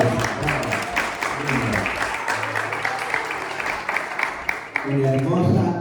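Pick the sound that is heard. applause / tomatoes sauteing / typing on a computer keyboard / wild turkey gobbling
applause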